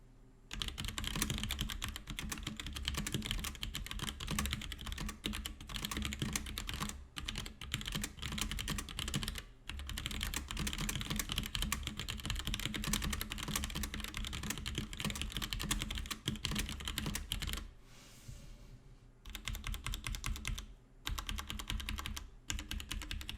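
Steady, fast typing on a Roccat Vulcan 121 Aimo keyboard with quiet switches, a dense run of soft clacks with a few brief pauses, close up and without voices.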